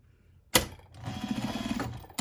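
Sewing machine stitching fabric for a glove around pins, a short burst of rapid mechanical needle chatter framed by sharp clicks, close and fairly loud.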